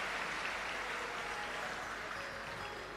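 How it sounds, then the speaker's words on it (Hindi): An audience at a live Shiv Mahapuran katha gives loud, sustained applause for the host families, a dense, even wash of clapping that fills the full three seconds without any voices. "एक बार सभी यजमान परिवार के लिए जोरदार ताली बजाकर स्वागत"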